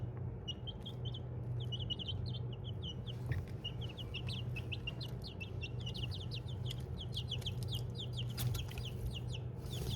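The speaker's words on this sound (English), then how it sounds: "So I've got 2 amber-link chickens and 2 more feather-footed Morans" Chickens, including Amberlink and feather-footed breeds, cluck and chirp steadily, many short calls overlapping at a moderate distance over a low background hum.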